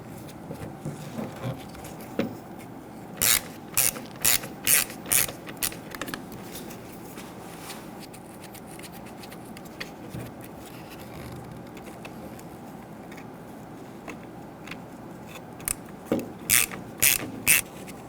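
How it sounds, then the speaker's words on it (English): A ratchet with a T20 Torx bit loosening screws on the parking assist camera of a 2011-2015 Kia Sorento, sharp clicking bursts in several spaced clusters, close and fairly loud over a quiet background. "Now we're going to use T20 Torx bits to go ahead and loosen and remove these screws here."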